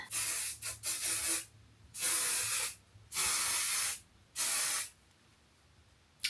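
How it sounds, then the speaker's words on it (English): Several bursts of aerosol hold hair spray hissing close by, separated by brief pauses, with no talking. "I'll spray my hair again with the hold spray"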